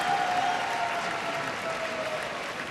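A crowd applauds steadily at the Westminster Kennel Club terrier group judging, a dense, sustained clapping that fills the arena at an even level throughout.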